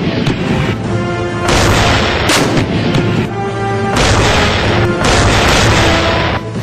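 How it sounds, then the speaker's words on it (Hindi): Dhanush towed artillery gun, an Indian-built Bofors-type howitzer, firing in a sustained barrage: repeated heavy booms and blasts overlap continuously, loud and close throughout with no pauses. "दो घंटे तक बिना रुके दुश्मन पर बम बरसाने वाली इस तबाही का नाम धनुष है।"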